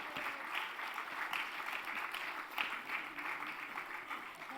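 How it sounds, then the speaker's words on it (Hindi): A crowd at a charity committee's honouring ceremony gives a standing ovation, with dense, sustained applause filling the room evenly at moderate volume throughout. "जोरदार तालियों से स्टैंडिंग ओवेशन के साथ।"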